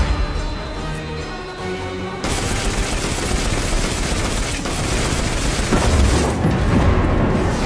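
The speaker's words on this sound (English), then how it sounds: "Missiles! Stay inside my shield!" Missiles explode in Destiny 2 gameplay, with a dense, loud, sustained barrage of blasts and gunfire-like bursts rolling on without a break and no talk over it.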